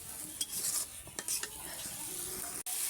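Turmeric, chili powder and salt sauté in a pan with a crisp sizzle, broken by a few scraping strokes and clinks from a utensil stirring against the metal, close and moderately loud.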